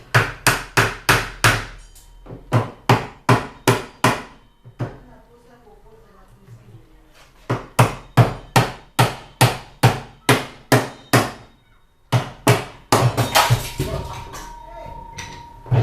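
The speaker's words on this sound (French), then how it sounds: "Je vais donner un coup de marteau pour le faire sortir." Sharp hammer blows knocking out a motor strike in quick regular bursts, loud and close, with short pauses between volleys and a faint voice in one gap.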